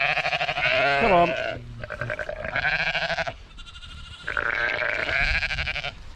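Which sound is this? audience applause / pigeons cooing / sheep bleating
sheep bleating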